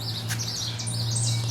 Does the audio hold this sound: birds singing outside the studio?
yes